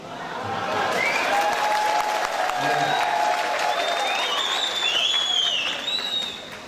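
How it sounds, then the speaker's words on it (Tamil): Sustained crowd applause at a DMK political party meeting, loud and dense with many hands clapping continuously, a few whistles and cheers rising over it, fading slightly at the end. "கைத்தட்டத்தை பார்த்தா எவ்வளவு வரை இருக்கு பாத்தீங்கன்னா"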